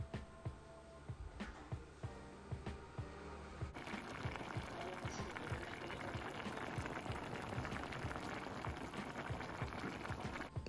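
Kerala-style fish curry with kodampuli boils in a pot, a faint, steady bubbling and simmering that thickens into a denser, continuous bubbling partway through, with no voices.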